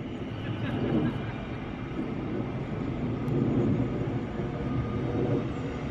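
A train runs past at Hitchin station on the line up to Cambridge, giving a steady, moderately loud rumble that holds through the whole stretch with slight swells, with no talk over it.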